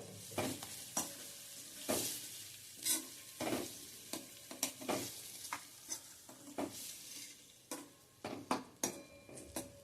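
Onion is stirred into a hot spice tempering in a kadhai, giving a quiet, steady sizzle from close by, broken by regular scraping and clinking strokes of a spoon against the pan.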